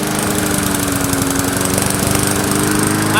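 Small engine running on WD-40 as fuel, a loud, steady, close buzzing drone with a rapid, rough pulse that holds unbroken throughout.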